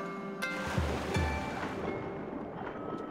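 Water in The Legend of Zelda: Skyward Sword, a soft, steady wash like gentle surf with a few low splashes near the start. It is faint and continuous, with no voices.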